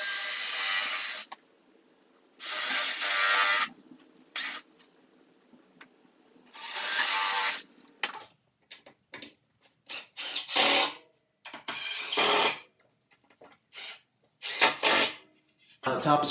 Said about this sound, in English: I'll drill some pilot holes and screw it down.